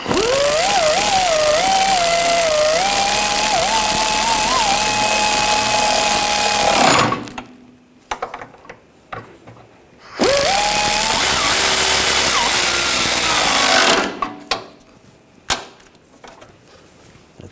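A power tool tightens bolts on the rear lower control arms of a 2009–2017 Volkswagen Tiguan, giving two loud, close, sustained bursts of rattling whir separated by quieter clinks and knocks.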